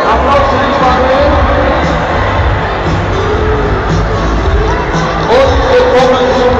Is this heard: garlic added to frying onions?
no